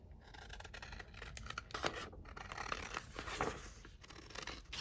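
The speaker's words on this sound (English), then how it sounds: "so we're going to then snip this down" Close, crisp scissor snips cut through folded paper for a junk journal, a quick run of rustling cuts and paper crunches at the table.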